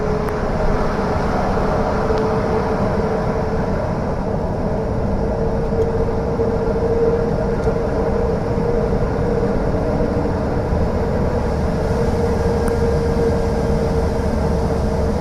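A heavy truck's retarder brake rumbles steadily through a tunnel, a dense low roar with a sustained droning tone, constant and loud throughout with no talking.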